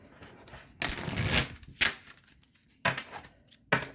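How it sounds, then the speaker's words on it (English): Oracle cards are shuffled in a few quick riffling bursts with pauses between, close and fairly soft. "So we have the energy oracle cards."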